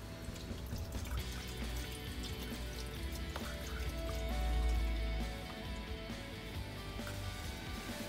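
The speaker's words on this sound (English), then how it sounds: "the water is flowing and it's starting to fill up" Water runs steadily from a pump into an IKEA Vaxer watering system, a continuous low liquid rush of filling with a brief swell in volume partway through, close by and without talk.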